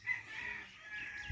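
Fowl on Kauai call out in a moderately loud, drawn-out rooster-like crow close by, ending with a brief low thump and no talking.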